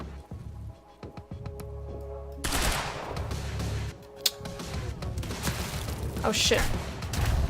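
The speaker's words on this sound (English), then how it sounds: "clearly this is where the people are shooting." Gunfire rattles through a firefight in the video game Quantum Break, with quiet shots at first and then a long stretch of dense, loud automatic bursts, while someone talks briefly over the shooting.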